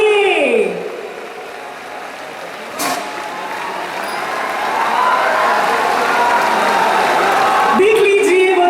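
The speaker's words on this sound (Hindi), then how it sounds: "तालियां रुकनी नहीं चाहिए, लगातार होनी चाहिए" An audience at a temple event claps on and on, a sustained wash of applause and crowd noise that swells gradually toward the end, with a few tonal sweeps and brief sharp knocks over it.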